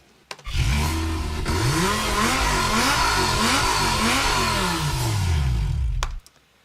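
A powerful Lamborghini engine roars and revs up and down repeatedly, loud and close, before cutting off abruptly.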